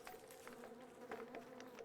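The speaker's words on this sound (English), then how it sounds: "I'm hearing several buzzings. Several things buzzing." Several insects buzz steadily in Don't Starve Together, a low continuous drone with faint overlapping wing whines, quiet and close, no voices.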